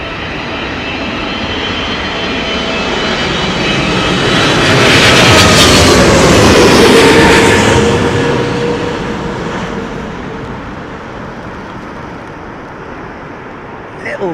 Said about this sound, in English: Listen out for the big downwash.